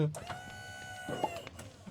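A chicken clucks faintly in the Minecraft modpack FTB OceanBlock 2, short soft clucks set against a quiet, steady game tone and low background hum.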